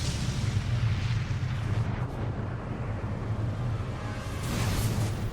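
Explosions over a city in the Bayonetta 3 prologue come through as a continuous low, heavy rumble of overlapping booms. The sound stays loud and dense for several seconds, with no speech.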